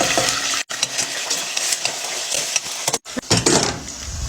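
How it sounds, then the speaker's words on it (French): Chopped onion is added to chicken cooking in a little oil, giving a continuous hiss of frying with utensil stirring and clinking against the pan, broken by two brief silences. "Je viens rajouter l'oignon."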